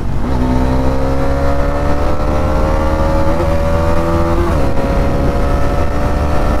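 A motorcycle racing at speed on a road, its engine droning steadily with a shifting pitch and heavy wind rush, close and continuous, with no talk.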